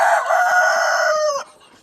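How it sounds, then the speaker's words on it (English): A chicken lets out a single loud crow close by, a sustained strained call lasting over a second before cutting off abruptly. "Yes, chicken, I hear ya."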